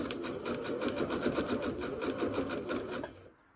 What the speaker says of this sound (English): So I'm just going to zigzag around it.